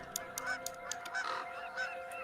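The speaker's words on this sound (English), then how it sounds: "the bird sound effects they've used in this entire video have just not been consistent birds at all" Geese honk in a rapid series of loud, nasal calls, about eight overlapping honks in quick succession, close and clear with no talking.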